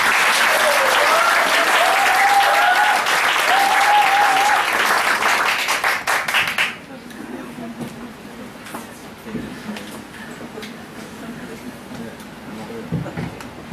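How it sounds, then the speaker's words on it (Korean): A lecture audience in Incheon gives loud, dense applause to welcome a politician's 2017 talk. The clapping fills the first half, then cuts off, leaving a quieter room with faint sounds. "그럼 한국 정치의 새 희망 유승민 의원님의 강연은 큰 박수로 듣도록 하겠습니다."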